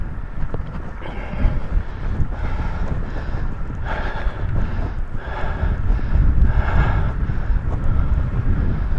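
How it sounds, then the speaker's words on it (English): Steady wind buffeting a microphone while cycling up Glendora Mountain Road, a loud continuous low rumble with gusty swells that strengthen toward the end, and no talking. "More wind up here"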